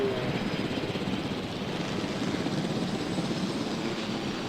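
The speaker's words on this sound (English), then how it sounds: "So I really like getting way up high in the helicopter." Steady droning rumble of a helicopter flying in the video game Jurassic World Evolution, continuous and fairly loud, with no breaks or voices.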